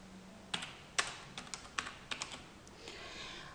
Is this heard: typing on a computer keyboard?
yes